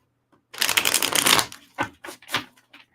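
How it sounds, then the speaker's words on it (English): Tarot cards being shuffled close by: a burst of riffling flutter followed by several short slaps and taps as the deck is squared, with no talking. "I'm going to do a quick shuffle."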